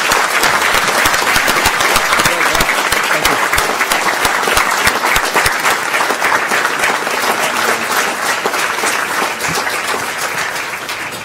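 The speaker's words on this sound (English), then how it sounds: "you can stop applauding for a second" A school board meeting audience applauds student athletes with sustained, dense clapping that stays loud and steady throughout, easing slightly toward the end.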